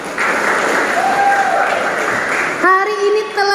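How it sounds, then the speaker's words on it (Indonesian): An audience applauds children at a Christmas program with dense, loud clapping for about two and a half seconds, then a sung or sustained voice takes over. "Tepuk tangan untuk anak-anak."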